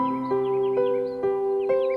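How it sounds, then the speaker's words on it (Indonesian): A bird calls in Indonesia in a steady, evenly spaced series of four clear, loud notes over a constant tonal drone, with faint higher chirps scattered above. "Kicauan ini terancam tak terdengar lagi"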